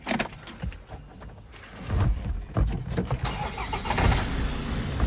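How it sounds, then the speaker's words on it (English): A 2013 Land Rover Defender 130 with a 2.2 TDCI diesel cranking and firing up, a rough churning start that settles into a loud, steady low idle close by. "Let me start the vehicle."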